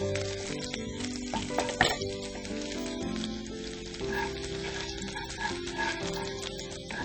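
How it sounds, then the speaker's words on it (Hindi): Chopped peeled garlic frying in a pan, a steady busy sizzle with crackling pops that carries on throughout, close and fairly loud, with no voices. "लहसुन, जो कि छील कर काटना है, और फिर इसको हम ब्राउन करेंगे"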